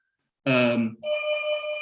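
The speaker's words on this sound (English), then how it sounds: "somebody is ringing the intercom" A short voice sound is followed by a steady electronic intercom ring that holds as a continuous buzzing tone, close and fairly loud.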